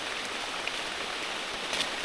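Steady rain falls during a mangosteen harvest, a dense even hiss of drops on leaves and surfaces, continuous and close with no voices.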